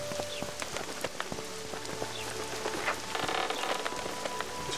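Steady rain falls in the Witcher 2 game world outside a town, a dense patter of drops on surfaces with scattered sharper droplet ticks running throughout, fairly close and unbroken, with no voices.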